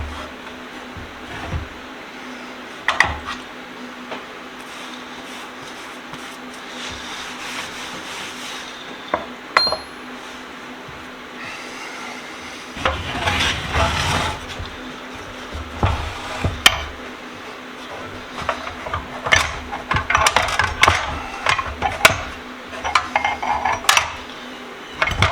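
Williams super ratchet and Wright 3/4-inch sockets are set into a tool box one by one, giving scattered metallic clinks and knocks over a low steady hum, with a busier cluster of clacks toward the end.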